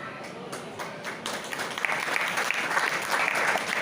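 Audience applause at a Vedic Shravani festival and Raksha Bandhan celebration in Jind, a dense steady clapping that starts a little ragged and swells fuller, with faint voices mixed in.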